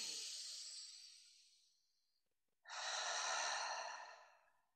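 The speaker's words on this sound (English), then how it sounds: "First, a centering breath." A single slow breath, drawn in and released through the nose and mouth, then a second breath that swells in and fades out, close and soft with no talk.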